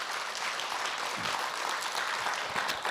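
An audience claps after a question at a Korean Buddhist monk's dharma talk: continuous, fairly dense applause at a steady level for the full few seconds, close and even, without speech over it.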